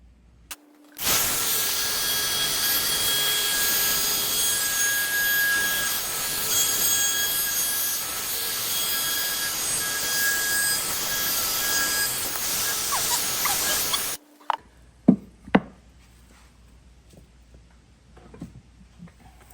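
A power router whines loudly and steadily for about thirteen seconds as it rounds over a wooden board's edge, then cuts off, followed by a few sharp knocks and clatters.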